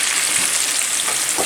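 Chicken thighs sear in a hot pan for jambalaya, giving a loud, close, continuous sizzle with a few soft stirring scrapes and no talk.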